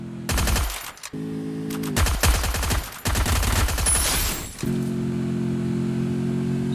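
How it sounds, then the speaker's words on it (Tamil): A robot fires guns in a video game: rapid bursts of automatic gunfire over a steady humming drone, loud and close, with brief pauses between volleys and no talking. "டேய் அது சுடுதுடா, அந்த ரோபோட் சுடுதுடா"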